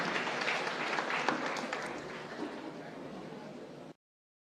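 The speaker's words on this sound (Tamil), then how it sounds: "ஒரு சூப்பரான ஒரு கைத்தட்டல் அரவிந்த் அவர்களுக்கு." Audience applause for Aravind, the closing speaker at a Tamil pattimandram debate event at a Chennai college, a dense, steady crowd clapping that holds for about four seconds before cutting off abruptly.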